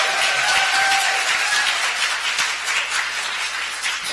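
Dense audience applause at a statewide candidates' debate in Colorado Springs, a steady wash of many hands clapping throughout, loud and continuous with no speech over it.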